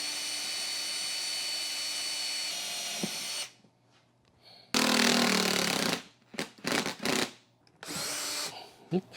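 Power drill on a 1964 Triumph TR4, boring new holes for hose screws: a loud steady whine for several seconds, a pause, then a harsh burst and short stuttering trigger pulls of varying length.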